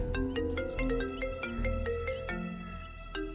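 A phone ringtone plays on and on without being answered, a melodic electronic tune of short repeating notes over a soft low backing, fairly close and with no voices.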